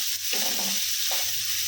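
Vegetables fry in oil in a pan, giving a steady close sizzle with a couple of brief stirring scrapes and no talking.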